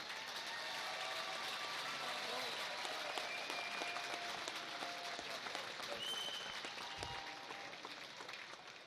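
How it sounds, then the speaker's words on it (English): A baseball crowd at the 2021 NBC World Series championship game in Wichita applauds the Lone Star Baseball Club, a faint, distant, steady wash of clapping that holds for the whole stretch with a hint of voices beneath it. "Let's give them another round of applause,"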